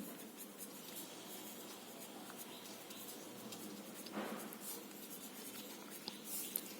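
A pen or marker scratches and scribbles on paper or a board in a maths lesson. The sound is faint and continuous, with light strokes and a few brief taps.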